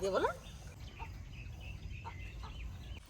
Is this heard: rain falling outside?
no